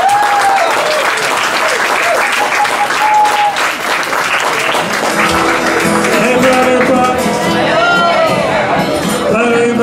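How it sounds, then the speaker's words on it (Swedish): An audience at an open-stage music event breaks into sustained warm applause for a performer, dense clapping throughout with scattered shouts and a voice speaking over it, while instrumental music begins underneath toward the end. "Varma applåder upp på scen."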